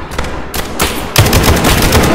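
Video game guns fire in loud, dense volleys of overlapping shots, with sharp cracks and heavy booms packed close together and no pause.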